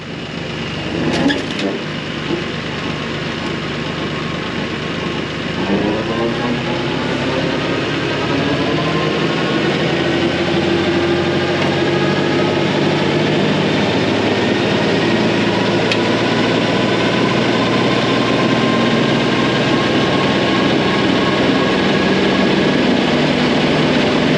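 A steady, loud tractor engine running a rotary chopper drones continuously after a brief start-up, a rough mechanical roar holding at a constant level throughout.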